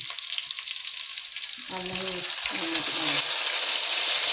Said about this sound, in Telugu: ఉల్లిగడ్డలు వేంపింది స్టవ్ మీద ఇప్పుడు ఒక్కొక్క ముక్క వేస్తుంది చూడండి